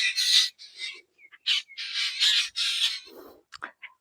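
Birds calling in open village countryside among farmland with banana plantings: a run of bright, squawking calls and chirps in short bursts, some close and loud, with brief gaps between them and no talk.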